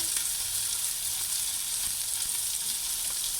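Two halved chillies sizzle in a hot pan with a steady, bright crackle of frying that is close and continuous throughout, with no voices.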